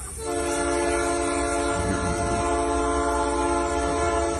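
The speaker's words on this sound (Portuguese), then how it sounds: "O vídeo mostra o momento exato em que o trem arrasta o carro por alguns metros." A train on a railway blares its horn in one long, loud, sustained blast over a heavy rumble as it drags a car that overturned onto the tracks a few metres.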